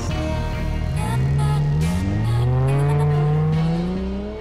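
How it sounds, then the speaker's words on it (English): A Dodge Challenger fitted with a Magnaflow exhaust, cold air filter, lowering springs and 22-inch Lexani rims revs loudly and close, its engine note climbing and falling in steady sweeps with no talking over it. "Canon filter, Magnaflow, 22 Lexani rim on it, tinted window, the whole nine yards, and the lowering springs. It's an incredible sound."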